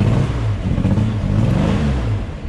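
A Holden VL Commodore engine revs hard and close, loud throaty pulses rising and falling in quick succession with a rough, mean edge, no voices over it.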